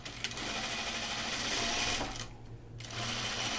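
A sewing machine stitches the first pass of a French seam in rayon caftan fabric, a steady close whirring buzz that stops briefly and then resumes.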